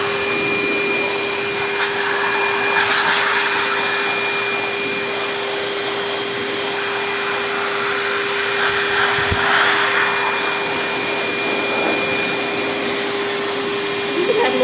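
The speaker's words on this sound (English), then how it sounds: "not a fan of the blower" A pet grooming blower drying a dog, a loud continuous whooshing roar with a steady whine held close for the whole stretch, faint movement noises underneath.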